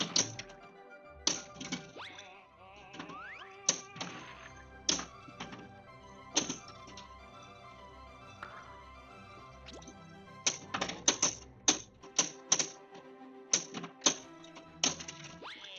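Pinball flippers in the Looney Tunes Pinball video game snap in sharp, irregular clicking bursts over a steady electronic music bed, some hits in quick pairs and clusters, others spaced apart.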